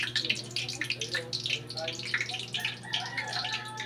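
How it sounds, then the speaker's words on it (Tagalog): Water droplets spatter and crackle in a freshly washed hot pan, a busy close sizzle of small pops running throughout with a steady low hum beneath and someone talking over it. "Natuluan ng tubig kaya ganyan ang pintik-pintik na ganyan."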